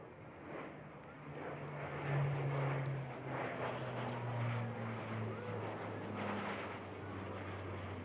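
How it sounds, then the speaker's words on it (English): A Blue Angels C-130 transport plane, the one nicknamed Fat Albert, passes overhead at a naval air station show. Its propeller engines give a loud, sustained droning rumble with a steady tonal hum through the whole pass. "About 60 degrees angle of bank in that C-130."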